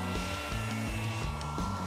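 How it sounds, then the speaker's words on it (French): A cartoon hair dryer blows with a steady, close whooshing hum for a couple of seconds, with no talking over it. "Mon sèche-cheveux est là pour toi."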